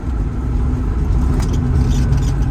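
An electric-converted Porsche 356 drives through a chicane, a steady low rumble of tyres and road noise with a faint whine, sustained and close throughout with no voices.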